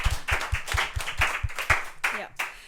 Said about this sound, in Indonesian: Tepuk tangan dulu semuanya buat guest speaker hari ini.